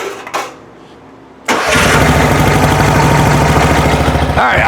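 A hot 1972 VW Beetle engine with dual carburetors cranks briefly, fires and settles into a loud, steady idle up close; a short knock and thud come before the start.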